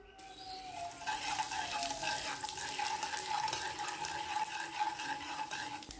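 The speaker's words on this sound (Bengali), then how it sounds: "এবার তেলটাকে গরম করে নিয়ে এর মধ্যে দিয়ে দেব দুটো তেজপাতা আর দিয়ে দেব দুটো শুকনো লঙ্কা আর দিয়ে দিচ্ছি জিরে ফোড়ন 1 চামচ।" Bay leaves, dried red chillies and cumin seeds crackle and sizzle in hot oil in a pan, a steady close frying hiss with small pops that continues throughout, no talk.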